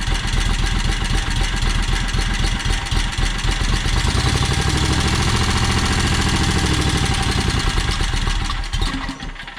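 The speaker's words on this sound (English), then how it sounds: "And you can hear it's running, well, it was. It's running on both cylinders." The two-cylinder engine of a John Deere X485 lawn tractor runs loud and close with a steady, throbbing chug for the whole stretch, then eases off slightly at the very end.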